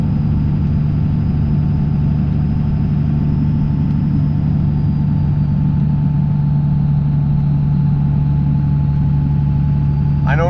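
A Cummins 24V diesel truck engine with a turbo and a homemade intake runs steadily, its low drone and a constant tonal hum holding level throughout, with a brief sharper sound right at the end.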